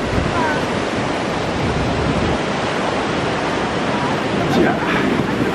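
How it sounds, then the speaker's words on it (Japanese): Surf rolls and breaks steadily on a busy surfing beach near Kamakura, a dense, continuous wash of wave noise that stays fairly loud with no clear pauses, probably with faint wind in the mix. "結構波があって、あちら大勢の人がサーフィンやってますね。"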